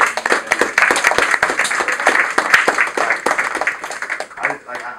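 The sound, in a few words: high school audience applauding students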